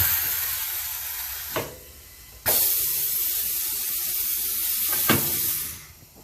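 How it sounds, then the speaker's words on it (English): Air rushing through a tire changer machine with an internal tank: loud sustained hissing bursts that start and stop abruptly, with sharp valve clicks between them, close by and without speech. "Hear all the air rushing through it"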